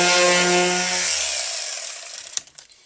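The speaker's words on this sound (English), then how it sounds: "So I've got my little palm sander here," Small palm sander on the edges of a new wooden board, a steady buzzing hum that winds down and fades out, followed by a few light knocks.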